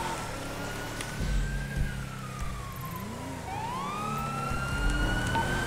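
A police car siren in a video game wails in a slow, sweeping rise and fall, moderately loud over a low engine drone and game ambience, with no speech during it.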